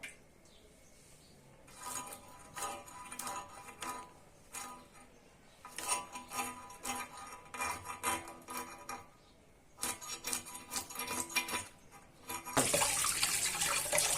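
Cut hilsa fish pieces rinsed under a running kitchen tap, with bursts of splashing water and clattering against a bowl, broken by quieter pauses, ending in a louder steady gush.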